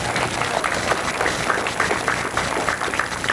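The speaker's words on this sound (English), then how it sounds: "Give yourself a round of applause" A room full of people at a political gathering applauding, dense, steady clapping filling the space throughout, fairly loud.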